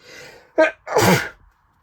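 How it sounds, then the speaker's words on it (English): A single person sneezes loudly and close by, a short inhaled build-up followed by a sharp burst, with no talk around it. "Sneeze."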